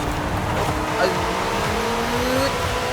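McLaren 12C braking hard in Forza Horizon 5, a steady tire squeal whining over the engine's drone for a couple of seconds, with voices talking over it.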